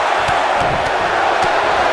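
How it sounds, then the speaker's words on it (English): An arena crowd in the wrestling game WWE 2K19 chants along with a pin count during a women's championship Royal Rumble match, a dense, steady roar of many voices filling the whole stretch. "Listen to this crowd count the next one in."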